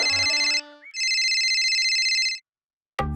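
A cartoon telephone rings with loud, bright electronic warbling tones in two bursts separated by a short gap, then falls silent before a new sound begins.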